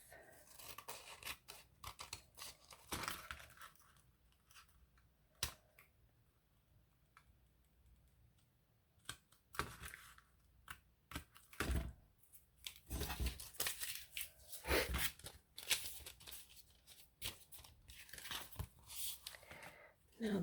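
Scissors trimming paper for a handmade junk journal, heard as repeated close snips and paper rustles in irregular bursts across the clip, with quieter stretches between cuts.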